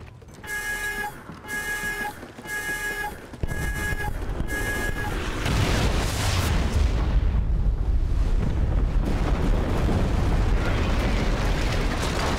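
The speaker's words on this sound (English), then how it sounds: "you get access to a missile that you can launch onto the map" Missile strike explosion in the Call of Duty: Ghosts video game, where a few repeated tonal beeps give way to a huge roaring blast and a long, loud rumbling aftermath that fills the remaining seconds.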